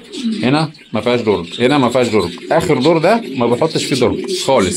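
Pigeons coo in a farm loft cage, their soft, low calls running under someone speaking Arabic close to the microphone.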